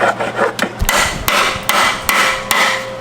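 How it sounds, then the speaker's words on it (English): About five sharp hammer blows ring out on tight dowels while the whole engine unit is pulled from a Nissan 370Z, spaced roughly every half second over scraping and rubbing noise close by. "can you grab me a hammer really fast?"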